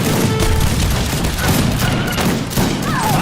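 Musket volleys crackle in the strategy game Age of Empires 3, a dense run of overlapping shots and booms that stays loud and continuous throughout.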